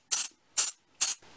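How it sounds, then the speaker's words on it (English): Three short, sharp hissing bursts of canned compressed air blowing dust off a Sega Game Gear, evenly spaced and close, with silence between them. "use the compressed air and just give it a spray, get rid of some of the dust, and just spray."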